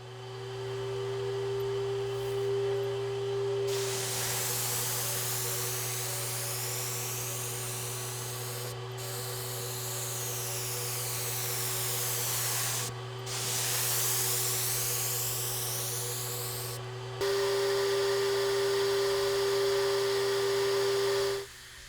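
A paint sprayer laying a second coat of primer on sunroom trim, a steady loud hiss with a constant hum underneath, broken by a few short pauses and ending louder.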